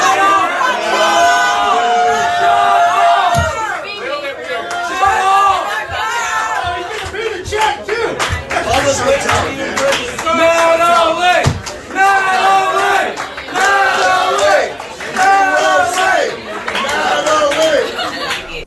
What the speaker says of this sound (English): they're cheering her on like she just destroyed the guy